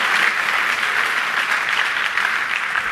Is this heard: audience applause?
yes